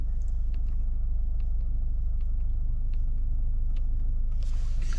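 A 2023 Subaru Legacy Limited with its 2.5-litre boxer engine cruises along, giving a steady, low, muffled road rumble heard from inside the cabin, with a few faint clicks above the hum.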